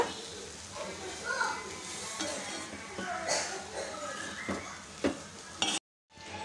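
Soaked red poha being stirred together with tempered lentils in a hot pan: repeated scraping and shuffling strokes over a soft, steady sizzle, with a voice talking faintly in the background.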